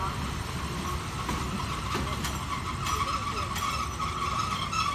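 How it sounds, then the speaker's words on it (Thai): Rapid train 167 pulling slowly into platform two at a Thai station, with a continuous grinding, squealing rumble of wheels on rails and faint clanks, heard nearby over station background noise. "ขณะนี้รถเร็วกันตามหนึ่งหกเจ็ดกำลังจะนำขบวนเข้าเทียบชานชาลาที่สอง"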